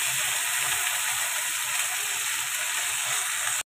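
Bain fish shallow frying in oil in a frying pan for a potato curry, a steady close sizzle with fine crackle holding evenly for several seconds before cutting off abruptly.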